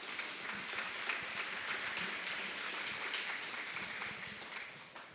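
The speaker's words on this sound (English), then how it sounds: "let's give Rodney and Teresa Isaacs a round of applause" Audience applause at a chamber of commerce awards evening, a steady, moderately distant wash of clapping lasting several seconds and fading slightly at the end.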